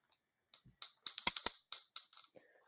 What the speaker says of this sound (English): This is going to be my martini bell.